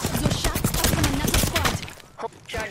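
Rapid video game gunfire crackles in dense bursts, loud and close, broken by a brief lull before more shots, with game voice lines over it.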